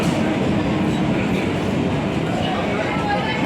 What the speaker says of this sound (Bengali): আর সেই শিয়ালদা যাওয়ার ট্রেনও চলে এসছে